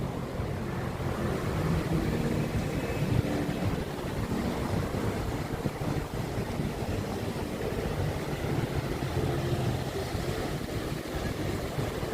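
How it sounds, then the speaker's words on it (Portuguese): Constant wind buffets the microphone on a rooftop in Maceió, a dense, roaring rumble that stays loud and unbroken throughout, with no speech. "Eu acho que deve ter muito barulho aí, né? Do vento."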